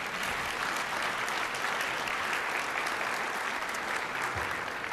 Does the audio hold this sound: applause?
yes